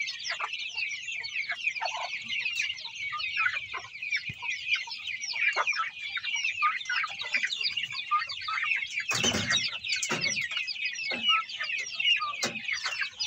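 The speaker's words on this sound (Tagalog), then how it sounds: "Ito native chicken." Native chickens in a backyard mini farm cluck and chatter constantly, a dense flock of soft and sharp calls at moderate distance, with a brief louder flurry near the end.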